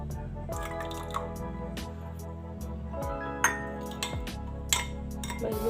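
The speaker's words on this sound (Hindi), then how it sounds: "मट्टी की जगह पानी थोड़ा सा ऐड कर रही हूँ।" Water is added to a bread and semolina batter in a home kitchen, with dripping, small clinks of a utensil against a bowl and soft stirring, fairly quiet with occasional sharper taps.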